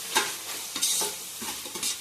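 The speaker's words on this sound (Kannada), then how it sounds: "ಮಸಾಲೆ ಎಲ್ಲ ಈಗ ಫ್ರೈ ಮಾಡ್ಕೊಬೇಕು" Garam masala sizzling in a pan for jackfruit biryani, with soft frying hiss and several scraping stirs of a spoon at an even, unhurried pace, close and moderately quiet.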